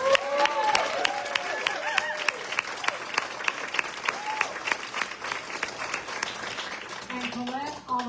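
An audience at a climate justice gathering claps steadily for several seconds, a dense, fairly close wash of applause, with a voice speaking over it near the end.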